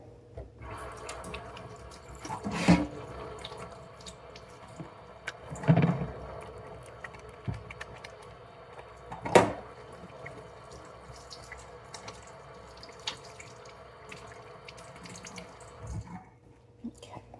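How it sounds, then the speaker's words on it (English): Hands are washed under a running kitchen tap while cooking, with a steady low stream of water and a few louder splashes and clunks as the hands move, fairly close. "Now I'm going to wash my hands real quick."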